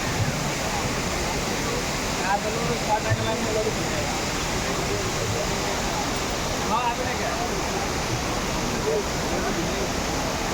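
Steady, dense rush of falling water from the huge indoor waterfall at Jewel Changi airport in Singapore, continuous and enveloping, with faint crowd murmur beneath it.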